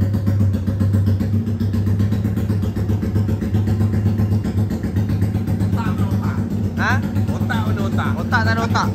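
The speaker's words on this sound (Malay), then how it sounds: "Bising motor." A Yamaha RXZ motorcycle engine runs steadily close by, a continuous two-stroke drone with clattering mechanical noise, while people talk over it.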